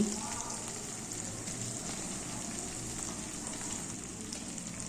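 A soft, steady sizzle of fried koi fish added to masala in a pan, with faint crackles and a brief low clatter at the start.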